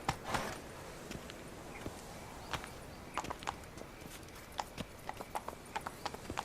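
Roach, a horse in The Witcher 3 video game, trots with steady clip-clopping hooves, sharp irregular hoof strikes ringing over a constant low ambient bed, moderately close.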